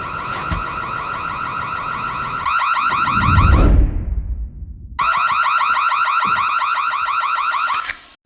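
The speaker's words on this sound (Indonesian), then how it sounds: "Tiba-tiba alarm kebakaran berbunyi di rumah." A loud electronic fire alarm in a house wails in a steady, repeating warble, cuts out briefly after a rumbling burst of noise, then resumes just as loud until the end.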